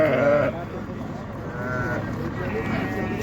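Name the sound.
sheep bleating at livestock market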